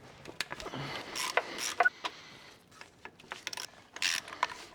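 Ratchet clicking in short bursts while a starter motor is unbolted from a BMW 525d, close and crisp with brief pauses between strokes.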